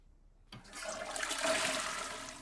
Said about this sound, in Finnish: Käydään kylmässä suihkussa.